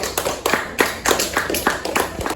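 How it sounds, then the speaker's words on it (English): A sixth-grade classroom claps for a student after a how-to demonstration: a small group claps in a close, uneven patter of sharp slaps over a couple of seconds. "Give him a round of applause."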